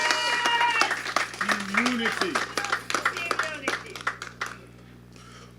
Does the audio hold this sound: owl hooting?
no